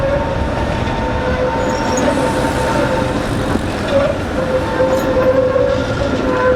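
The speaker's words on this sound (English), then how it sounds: "I've never seen so many trams before" A Prague tram rolls past on a city street with a steady low rumble of wheels and rails, thin metallic squeals rising now and then, close and continuous throughout.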